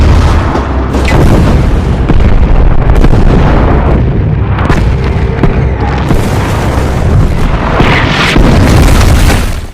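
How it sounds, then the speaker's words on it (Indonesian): Artillery fire aimed at Soviet soldiers in trenches in a World War II battle against German forces, with dense, continuous booms and rumbling blasts rolling one into another at high volume. "Setelah koordinat siap, artileri pun langsung ditembakkan"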